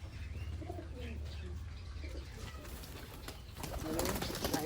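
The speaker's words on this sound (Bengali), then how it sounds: "দেখতে পাচ্ছি তোমরা সব পায়রাগুলো আমাদের খাবার খাবে" Domestic pigeons coo softly and steadily while being fed, the low murmuring calls layered with a few chirps, growing a little louder and busier near the end.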